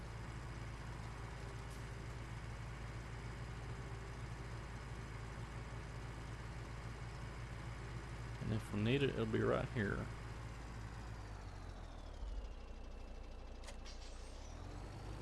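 A truck in Farming Simulator 17 idles with a steady low engine drone, and a short burst of brake or reversing noise sounds midway, while someone talks over it.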